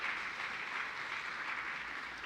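A church congregation applauding during a service, a steady wash of many hands clapping together, fairly distant and even throughout.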